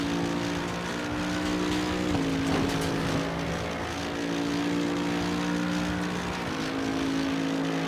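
A Mercedes-AMG GT3 Evo race car in Assetto Corsa Competizione accelerates at Monza, its engine a steady loud drone that steps up in pitch as it pulls through gear changes, with no talk over it.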